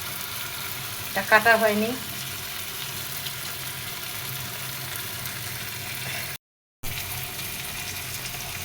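Tomatoes go into a pan of sizzling fish bhuna curry, setting off a brief louder burst of crackling before the steady frying hiss settles. A voice speaks briefly.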